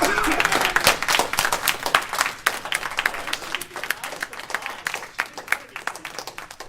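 An audience at an officer election meeting claps and applauds, dense and fairly loud at first, then thinning into scattered claps with some voices mixed in.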